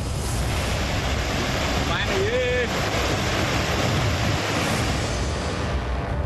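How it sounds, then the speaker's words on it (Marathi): Floodwater pours over a bridge after a cloudburst, a loud, unbroken roar of rushing water with wind buffeting close to the microphone and no pause throughout. "चारनेर पुलावरून पाणी वाहत आहे"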